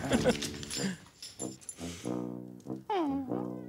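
A dog whimpers and whines in a run of high, plaintive cries, some rising and falling, heard close up in an indoor setting with faint talk around it.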